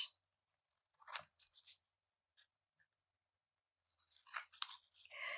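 Scissors cut a postage stamp away from its paper envelope backing in two short bursts of close, crisp crunching snips, separated by a near-silent pause with a few faint ticks.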